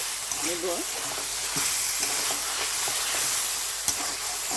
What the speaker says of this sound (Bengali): এক টেবিল চামচ হলুদ গুঁড়ো দিয়ে দিলাম ভালো করে নাড়াচাড়া করে কষিয়ে